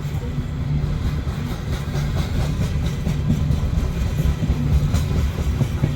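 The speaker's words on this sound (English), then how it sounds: "this train was being built." A freight train being assembled in a rail yard in Ashland, Nebraska rumbles steadily with low clanking and rolling noise, heard on a windy snowy day.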